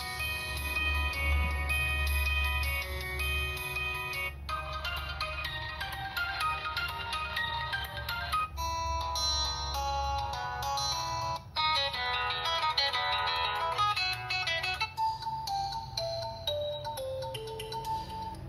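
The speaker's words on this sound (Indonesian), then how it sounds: "meskipun Infinix Hot 10s ini hanya dibekali dengan satu speaker, tapi ringtone yang dihasilkan suaranya itu cukup kencang" A ringtone melody plays loud and continuous from the single speaker of an Infinix Hot 10s phone, bright tonal notes changing in a repeating tune with no talking.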